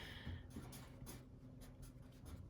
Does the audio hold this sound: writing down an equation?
yes